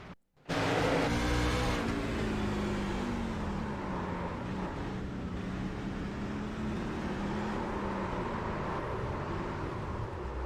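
A race car engine heard from onboard on a slick track roars continuously after a brief silent start, pitch shifting as it revs and eases through corners.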